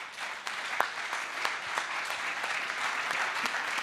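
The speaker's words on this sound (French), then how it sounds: "Voilà, vous pouvez les applaudir très fort" An audience applauds a bronze label presented at an awards ceremony at INSEP, steady crowd clapping with a few sharper individual claps standing out, moderately loud and continuous throughout, with no talking.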